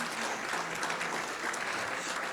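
An audience at a health talk on heart disease claps in a dense, steady burst of applause, loud and close, running without pause for a couple of seconds.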